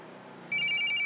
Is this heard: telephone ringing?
yes